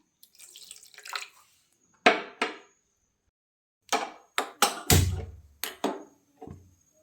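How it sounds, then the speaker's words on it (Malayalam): Water splashes into a pot in short, separate bursts, with clinks and sloshes at irregular intervals in an otherwise quiet kitchen. "നമുക്കതിലേക്ക് കുറച്ച് വെള്ളം ഒഴിച്ചു കൊടുക്കാം"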